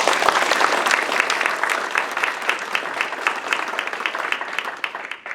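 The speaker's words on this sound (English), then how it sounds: "A round of applause for Julie Diem." An audience at an Army retirement ceremony claps in a dense, even round of applause for the retiring civilian equipment tester, holding steady for several seconds before tapering slightly.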